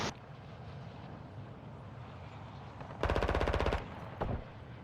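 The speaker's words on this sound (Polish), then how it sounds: "Jeden cały czas strzela, drugi strzela." A burst of automatic gunfire in Call of Duty DMZ, a rapid, loud rattle lasting under a second, then a single later shot, over a soft windy background with no talk.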